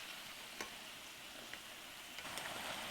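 Soft, steady sizzling of gur para dough pieces frying in a large pan with a few faint clicks and ticks, quiet and continuous with no voices.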